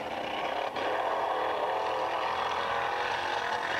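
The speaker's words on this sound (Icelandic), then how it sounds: "Hann þarf greinilega að vera með vélina upp á miklum snúning" A rally car's engine is held at high revs during a 1990 motorsport event in Grindavík, the engine sound uneven and struggling. It gives a steady, loud, continuous drone with no talk.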